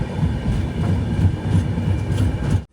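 A Yesvantpur to Sindhanur Express passenger train runs into Daroji station, its wheels clattering in a steady rhythm close by, with low rumbling before an abrupt cut at the end.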